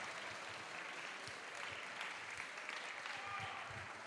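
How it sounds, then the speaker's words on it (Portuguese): Faint, steady applause from a congregation during a church service, a continuous soft patter of clapping for several seconds, distant and low in level. "Aplaude ao Senhor."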